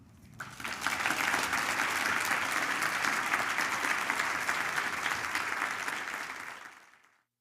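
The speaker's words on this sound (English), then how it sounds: "let's continue our applause for our health hero today, Maxine Frankel" At a women's health luncheon, the room applauds its health hero, the clapping swelling quickly to a full, sustained roar, holding for several seconds, then tapering off and stopping.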